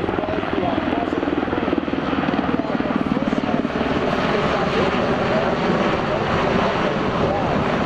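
A helicopter at an air show over a crowd at Jones Beach, New York; its steady rotor thrum fills the air overhead, loud and continuous with a dense engine roar throughout.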